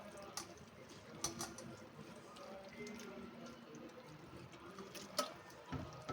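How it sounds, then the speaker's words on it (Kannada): Cooked shavige vermicelli is rinsed with water in a kitchen, with faint splashing and dripping and a few small clatters, soft and low throughout. "ನಾವು ಸ್ವಲ್ಪ ನೀರು ಹಾಕ್ಬಿಟ್ಟು ಈ ಥರ ತೊಳ್ಕೊಂಡು"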